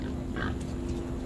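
Low pig grunts in the video game Metro Last Light rumble beneath a steady electronic hum and game ambience, a couple of brief snorting sounds standing out near the middle.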